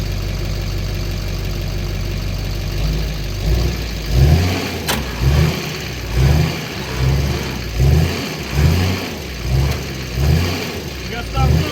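A Timberjack 450c log skidder, left sitting since 2007, idles loudly close by, then its diesel engine is revved in a series of about eight rhythmic surges, rising and falling every second or so.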